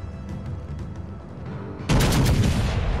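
A cruiser is targeted in the naval game World of Warships: Legends: quiet ship noise with faint ticks gives way to a sudden loud, sustained booming salvo of gunfire that stays heavy to the end.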